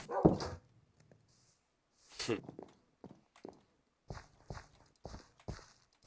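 A tamed dog in Minecraft 1.14 survival gives a string of short, quiet barks, spaced irregularly over several seconds with soft thuds between them.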